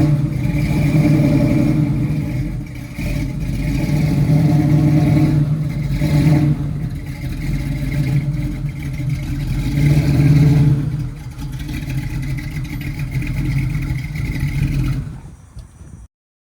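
A 1968 Camaro's 327 V8 with an automatic transmission runs steadily for most of the stretch, a loud low rumble that swells with occasional revs before cutting off abruptly near the end.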